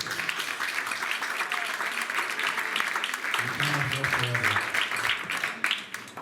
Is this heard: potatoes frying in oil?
no